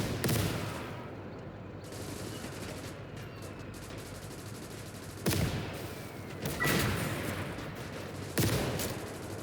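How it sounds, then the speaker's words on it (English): Mortar and gunfire in the World War II strategy game Call to Arms: Gates of Hell, with a continuous rumble of distant fire broken by several sharp, loud blasts spaced a second or two apart. "Mortar's a bit of a nuisance."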